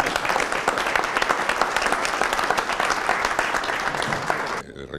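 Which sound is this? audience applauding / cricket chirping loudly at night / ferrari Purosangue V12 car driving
audience applauding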